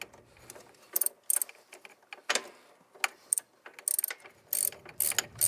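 Socket wrench ratcheting on the shifter link of a Snapper mower, delivered in short bursts of crisp clicking with brief pauses between, close up and fairly quiet, with no voices.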